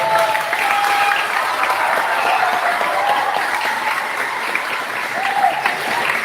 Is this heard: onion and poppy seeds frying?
no